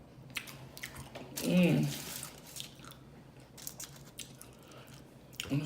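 Close-up chewing of homemade Flamin Hot Doritos shrimp nachos: crunchy, wet bites with a louder crunch burst early on, alongside a brief hum of enjoyment from the eater.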